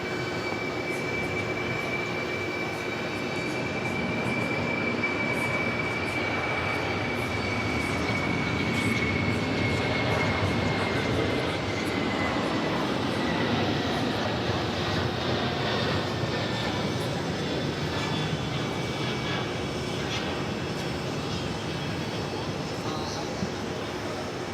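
An Atlas Air Boeing 747-400 freighter on the runway at JFK airport in New York, departing for Moncton, New Brunswick, with a broad, steady jet engine roar that holds throughout alongside a thin high whine, while a voice talks over it.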